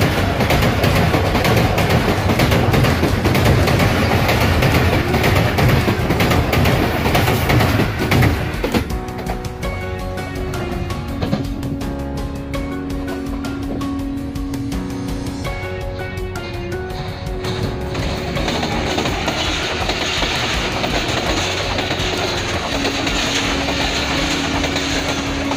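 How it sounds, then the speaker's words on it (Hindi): The Islamabad Express, hauled by a ZCU20 diesel locomotive, approaches near the Korang tunnel and bridge in Pakistan. A loud rumbling roar gives way to steady clattering wheels and engine drone, with a horn-like tone sounding now and then. "108 डाउन इस्लामाबाद एक्सप्रेस इस टाइम अप्रोच कर रही है।"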